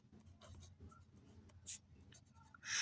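A pen scratches across paper while a math problem is being worked out, soft intermittent strokes and short scribbles close to the microphone, with a quiet background and no talking.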